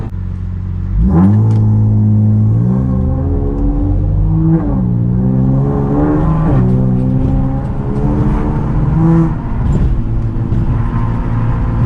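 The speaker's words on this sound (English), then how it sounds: "I want y'all to hear the car once I go over this overpass, because it like really echoes off of the walls" A car's engine revs and shifts through rising gear pulls while driving, its loud tonal drone echoing off overpass walls, with repeated climbs and drops in pitch and no talk.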